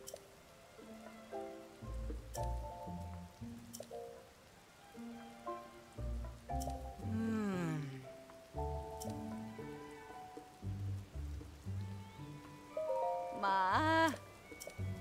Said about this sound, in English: Why are you out in the rain?